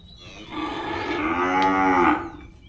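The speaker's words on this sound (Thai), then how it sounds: "วัวแบบนี้ก็เหมือนเหมือนกับวัวไทยนะครับ" A single long, loud moo from a cow at a cattle and buffalo livestock market in Tak, Thailand, close by and lasting a couple of seconds over faint background noise.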